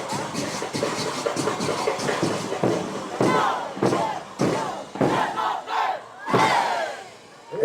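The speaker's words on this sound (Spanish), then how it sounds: "El aplauso." A crowd at a caporales dance performance breaks into cheering and shouting in loud, repeated bursts, voices rising and falling over a constant roar of applause.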